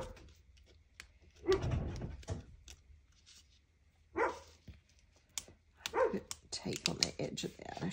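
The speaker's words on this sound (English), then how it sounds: "It's almost dark and she's still barking at something out there." A female dog barks outdoors at dusk as night falls, letting out a few separate bursts of barking at something out in the dark, with quiet gaps and light clicking between them.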